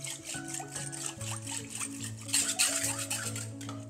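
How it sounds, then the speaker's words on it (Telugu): Curd and water are churned into buttermilk in a clay pot, giving close, repeated wooden scraping and sloshing strokes over a low, steady hum. "చక్కగా గిల్ల కొట్టుకోవాలి."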